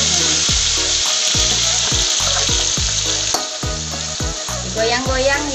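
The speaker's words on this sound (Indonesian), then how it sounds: "bumbu halusnya kita oseng-oseng dulu" Ground spice paste stir-fries in oil for Betawi-style snapper head gulai, with a loud, steady frying sizzle close by and regular scraping strokes of a spatula recurring in a rhythmic pattern throughout.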